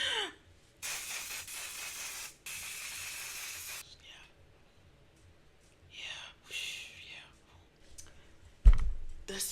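A makeup setting spray is misted onto a face in two or three long, loud hissing bursts, with softer sprays, faint handling clicks and a sharp knock near the end.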